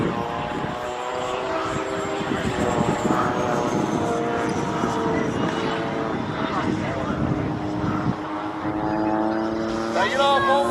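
E-flite F-16 model jet climbing away after a touch-and-go at a large radio-control flying event, a steady, loud whooshing engine roar throughout, with a commentator talking over it.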